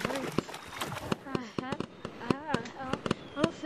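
Fireworks bursting in the Gorilla Tag virtual-reality game for a one-year anniversary, a rapid string of sharp cracks and pops with whistling streaks, loud and close, mixed with a voice talking over them.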